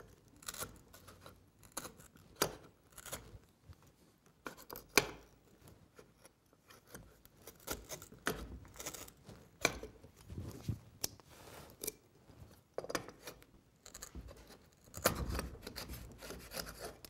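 A Lie-Nielsen router plane shaves the bottom of a cut in wood, giving a series of short rasping scrapes in uneven bursts, close and fairly quiet, with no voices.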